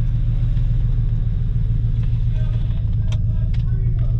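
A 1995 Chevy Impala SS with a 5.7L LT1 V8 doing a burnout, a steady, heavy low engine rumble held throughout, heard from inside the car with faint higher squeals and clicks near the end.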